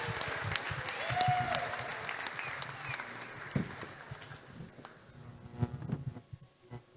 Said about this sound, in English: Let's hear a round of applause for all of them,